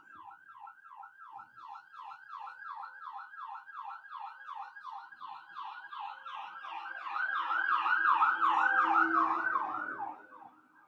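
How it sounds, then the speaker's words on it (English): Nearby ambulance siren wails in a fast, repeating up-and-down pattern, growing louder as it approaches and peaks, then starts to fade, heard alone without talk. "that's just an ambulance"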